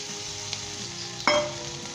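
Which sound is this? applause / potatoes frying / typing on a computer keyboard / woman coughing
potatoes frying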